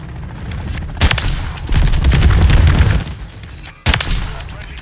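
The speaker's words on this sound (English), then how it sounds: "Enemy precision airstrike." Precision airstrike explosions in Call of Duty MW3 multiplayer: two sharp, loud detonations about three seconds apart, each followed by rolling rumble and crackling debris, with a dense stretch of booming in between.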